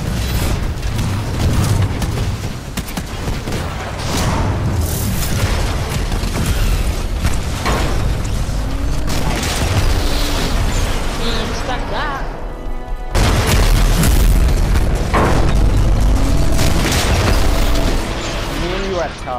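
EPG grenade launcher shots and explosions boom through a loud, dense Titanfall 2 match, thick with gunfire and game effects, while a player's voice talks over the action.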